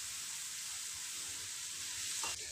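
Turmeric and chili powder sizzling in a pan after a splash of water, a dense steady hiss close up with faint stirring, no voices, and a short scrape near the end.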